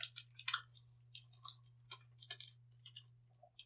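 Someone chews chewy South African candy up close, with a series of soft, irregular wet chewing and squishing sounds and quiet pauses between them, no talking.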